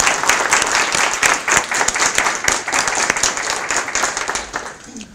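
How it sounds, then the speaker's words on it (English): A middle school ceremony audience applauds steadily, a dense wash of many hands clapping that fills the hall and tapers off near the end. "Let's give them a round of applause"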